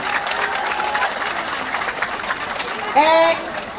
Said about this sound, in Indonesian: berikan tepukan kepada pejuang-pejuang di Taiwan